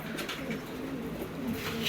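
Russian Gitgiri pigeons coo softly and continuously at close range, a low steady murmur with no voices.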